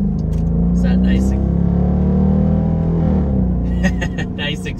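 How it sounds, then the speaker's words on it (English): A loud, deep engine rumble from a Dodge Durango R/T SUV, rising and settling as the exhaust revs, with speech overlapping near the start and end. "Nice exhaust note."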